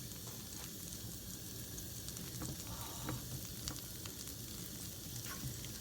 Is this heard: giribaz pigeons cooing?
no